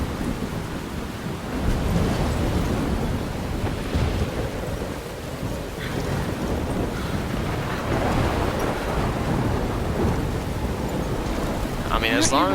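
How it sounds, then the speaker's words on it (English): Thunderstorm in the video game Life Is Strange: a steady wash of rain with low rolling thunder rumbling throughout, fairly loud and continuous, with a brief brighter crackle near the end. "I love thunderstorms."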